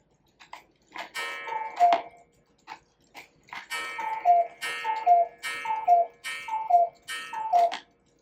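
A cuckoo clock with carved owls sounds off. Its call comes as a series of two-note chimes, clear and close, repeated about seven times in a steady rhythm with short gaps between, and nothing else is heard.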